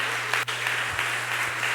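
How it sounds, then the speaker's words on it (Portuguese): A church congregation applauds during a sermon, a soft, even wash of clapping heard somewhat distant under a low steady hum, with one sharp click near the start. "Aplauda ao Senhor Jesus."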